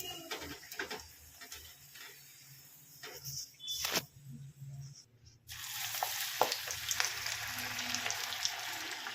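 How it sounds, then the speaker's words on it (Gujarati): Thepla flatbread fries in a pan in a home kitchen while milk heats on the side, giving a faint, steady sizzle with a few clinks and soft handling noises, and no one speaks. "અને આ તળાય છે."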